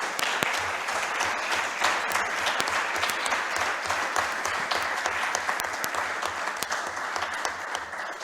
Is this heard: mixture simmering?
no